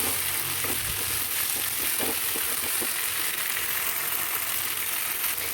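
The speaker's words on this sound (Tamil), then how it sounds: "நல்லா சுண்டக்காய் வந்து எண்ணெயில் நல்லா வதங்கணுங்க" Turkey berries (sundakkai) sautéing in hot oil for a tamarind kara kulambu, with a steady broadband sizzle throughout and occasional soft stirring scrapes, close and continuous.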